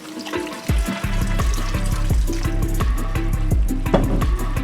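Red wine poured into a pot of oxtail and fire-roasted tomato sauce, with a steady near splashing pour of liquid running throughout and a few louder gurgles and clinks along the way.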